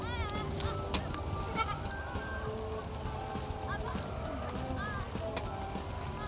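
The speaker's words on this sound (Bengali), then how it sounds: "এক পাল ছাগল" A herd of goats and sheep on a mixed farm bleating repeatedly, several animals calling near and farther off, with someone talking underneath.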